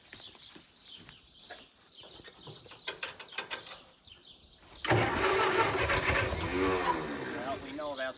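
Massey Ferguson 65 tractor engine cranking and then catching on carburetor fuel, with faint clicks and scraping before it fires loudly and runs roughly nearby for several seconds.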